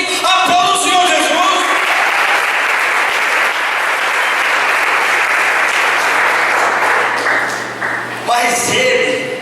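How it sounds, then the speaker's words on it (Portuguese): A church congregation breaks into loud, sustained applause that holds steady for several seconds before fading, with a voice heard briefly at the start and end. "Aplauda o Senhor Jesus"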